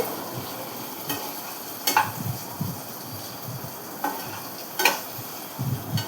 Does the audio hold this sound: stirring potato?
yes